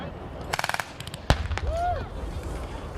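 A single artillery gun fires one round during a Canadian Forces combined exercise: a sharp, loud blast stands alone among other distant bangs, then trails into a rumbling echo with a radio tone in the background.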